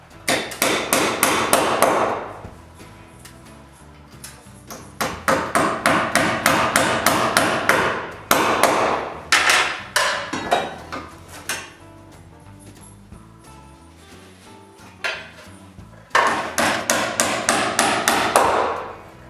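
Bursts of sharp, rapid hammer blows drive nails through joist hangers into a timber beam in a building shop, each run of close, ringing strikes separated by short pauses.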